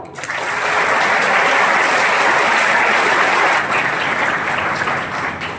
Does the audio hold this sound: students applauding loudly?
yes